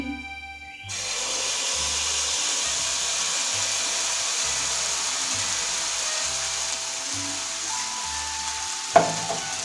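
Batter made from flattened rice poured into an oiled pan: a sudden broad, steady frying hiss that starts after a second of quiet and holds evenly, with a faint low pulsing hum and one metallic clink near the end.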